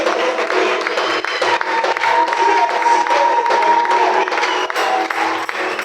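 A church congregation claps and cheers steadily throughout, a dense close crowd wash mixed with voices and a sustained tone.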